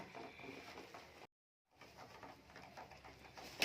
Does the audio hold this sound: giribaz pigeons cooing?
yes